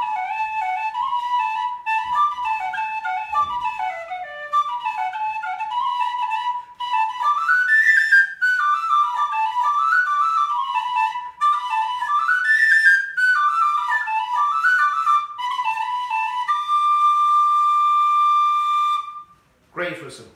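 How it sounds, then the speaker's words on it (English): A Tony Dixon DX004 plastic tunable whistle plays a soft, clear melody of quick ornamented phrases, held close and alone, ending on a long sustained note. "This is the Tony Dixon plastic DX004 whistle, and it's tunable."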